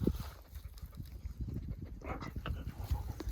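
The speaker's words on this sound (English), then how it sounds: "She's panting away in the truck" A dog pants rapidly and steadily inside a truck on a warm spring day, close and continuous with rough, breathy rhythm over low engine or cab rumble.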